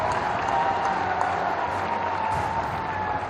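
Crowd clapping at a political rally in the Chambal region, a dense, steady wash of many hands held at an even level throughout.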